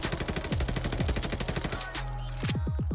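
Rapid automatic gunfire from a video game, Call of Duty: Vanguard in Search and Destroy mode. A loud, steady burst of evenly spaced shots runs for about two seconds and then stops, followed by several shorter shots, with no talk.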